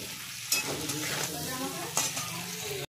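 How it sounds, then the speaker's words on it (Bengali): Eggplant pieces frying in oil with salt and turmeric, a steady loud sizzle with a couple of sharp clinks of a utensil stirring the pan. "এই তেলে আমি একটু বেগুন কটাকে ভেজে নেব"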